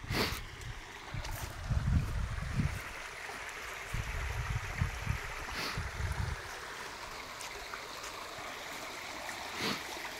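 A small brook runs steadily into a lake, a soft continuous trickle and wash of water with faint low bumps and no voices.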